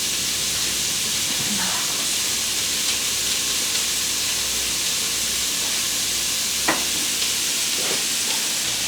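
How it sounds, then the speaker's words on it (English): Vegetables sauté in a pan for black-eyed pea soup, giving a steady, close sizzling hiss throughout with a few faint stirring scrapes and clinks near the middle and end. "So we're just gonna saute up our vegetables here for just a few minutes"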